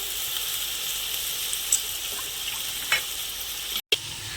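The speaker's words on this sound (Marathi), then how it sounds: "तर सगळा मसाला आमचे आता परततोय आहे" Steady, close sizzling of masala with chicken frying in a pan for chicken biryani, a continuous hiss with a few small pops and a brief break near the end.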